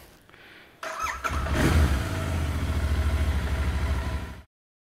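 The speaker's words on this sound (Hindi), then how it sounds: "हैंडल से आवाज़ आ रही है।" Motorbike engine starting and running while riding, with a steady low rumble and rough, pulsing drive noise that carries on for several seconds before cutting off abruptly; any rattle from a replaced handlebar bearing is buried in the engine sound.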